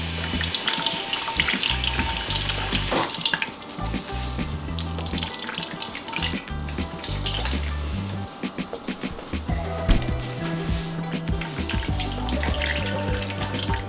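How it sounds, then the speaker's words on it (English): Grated cassava gets wrung by hand to squeeze out its starchy juice, making a steady wet splashing and trickling of liquid, close and continuous, with irregular squelching surges and no speech. "So now we're gonna proceed by wringing out the starch from the cassava."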